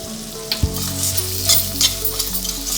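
Mutton keema frying with garam masala, a loud close sizzle with a few spoon-on-pan knocks and scrapes, no voices.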